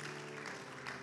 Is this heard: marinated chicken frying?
no